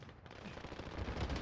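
Rapid gunfire from a Call of Duty Warzone match in Verdansk, a dense, close burst of shots that builds slightly in loudness over a moment and plays without voices.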